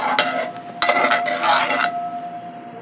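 A spoon clinks and scrapes against a metal pot while stirring brewed coffee, not instant, set to slow cook: a few sharp knocks with busy scraping, then a fading steady hum with no talk.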